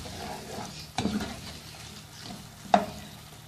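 Whole spices such as green cardamom, cinnamon, cloves and black peppercorns are stirred with ginger garlic paste in a pan, making a soft sizzle with two distinct utensil scrapes and knocks against the pan.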